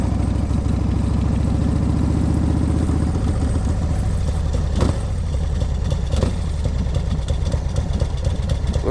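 A 2003 Exotic Chopper motorcycle with an S&S motor idles close by, a loud, steady, lumpy rumble that runs throughout, with a brief sharp knock near the middle and no talking.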